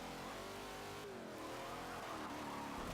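A race car in Forza Motorsport 7 drifts loudly and steadily, its engine revving and shifting pitch while the tires squeal and skid almost without pause.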